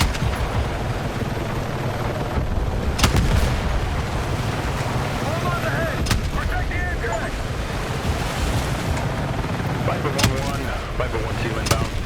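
Gunfire and explosions from mines being shot in a single-player video game campaign, heard as a constant rumbling roar broken by several sharp bangs spaced a few seconds apart.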